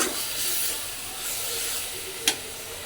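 Leafy greens hitting a hot pan and sizzling, a steady close hiss with one brief sharp clatter near the end, short and alone with no talk.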